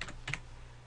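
Keys clatter on a computer keyboard in a few quick bursts, with one louder tap near the start, then faint room hum while the typing fades.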